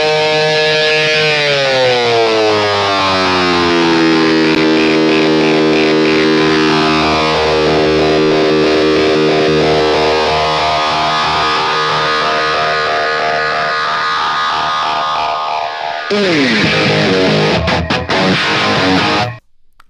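A heavily distorted electric guitar sustains a long swooping bend that rises and falls in pitch, then ends with a loud dive bomb and abrupt cutoff.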